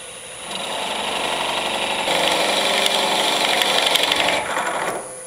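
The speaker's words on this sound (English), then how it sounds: "So all I'm gonna do is plunge that in maybe, an eighth of an inch or so, just to flatten the surface." A 7/16 drill bit plunging slowly into a wooden bottle stopper on a lathe, a steady whirring motor with a rising, grinding cut in the middle that eases off near the end, close and alone.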